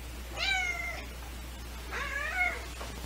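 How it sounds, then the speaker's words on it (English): A very large house cat of about twenty pounds gives two clear, drawn-out meows about a second and a half apart, close by against a low steady hum. "Look at this giant cat."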